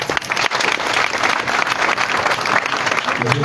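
A crowd at a political gathering gives a speaker a big round of applause: dense, continuous clapping and cheering at close range, steady throughout with no break.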